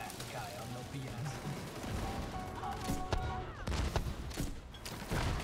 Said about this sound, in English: Let's shoot this bad guy